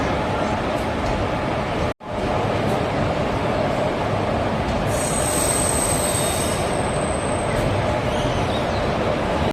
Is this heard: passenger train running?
yes